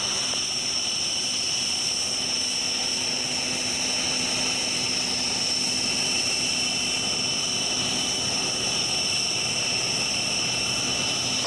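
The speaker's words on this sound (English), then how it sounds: "Behind the departing Tucanos, line up runway 27 behind." Tucano turboprop aircraft departing from runway 27, a continuous loud engine roar with a steady high whine and a low hum, sustained without a break and no speech over it.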